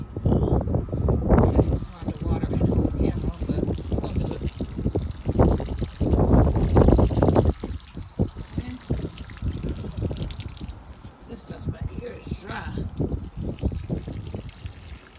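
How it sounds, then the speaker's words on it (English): Water pours and splashes steadily from a watering can in uneven bursts, close by, while a person talks over it. "So I'm gonna water starting over here."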